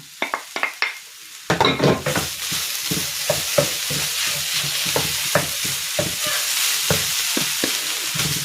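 Pumpkin lumpia filling with carrots and spring onion is stir-fried in a pan, a steady close sizzle that follows a few sharp clinks and runs under repeated scraping stirs of a spoon against the metal, with no talk.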